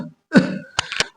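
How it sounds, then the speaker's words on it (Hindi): A brief throat-clearing cough from an old man, a rough guttural burst followed by two short harsh coughs, close and alone. "वो बूढ़ा खांसते हुए कहता है"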